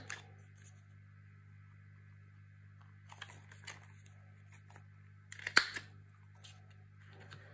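A corner rounder punch rounds the corners of a paper album page, giving a few faint clicks and one sharp, close snap near the end against a quiet room hum.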